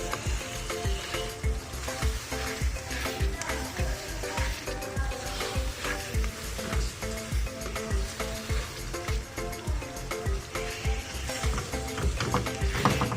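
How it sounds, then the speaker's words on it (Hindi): Ground chicken keema with potatoes and peas fries in a pan, giving a continuous crackling sizzle that runs under rhythmic background music throughout. "इसको 5 से 7 मिनट तक इसकी भुनाई करेंगे।"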